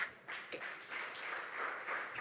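A congregation at a church service in London briefly applauds, faint scattered clapping that swells and dips over a couple of seconds.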